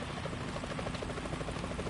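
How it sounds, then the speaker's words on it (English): Helicopter in the stealth video game Metal Gear Solid 2, its rotor chopping in a steady rapid pulse over a dense engine roar, continuous and fairly loud throughout. "The chopper."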